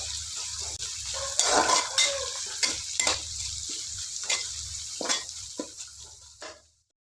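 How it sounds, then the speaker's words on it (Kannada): Two chopped onions and curry leaves frying in a pan while being stirred, with sizzling, scraping and clinking strokes that come in irregular bursts and fade out at the end. "ಕಟ್ ಮಾಡಿ ಇಟ್ಕೊಂಡಂಥ 2 ಈರುಳ್ಳಿ ಹಾಗೆ ಸ್ವಲ್ಪ ಕರಿಬೇವಿನ ಸೊಪ್ಪನ್ನು ಹಾಕಿ ಇದನ್ನು ಚೆನ್ನಾಗಿ ಫ್ರೈ ಮಾಡ್ಕೊಳ್ಳೋಣ."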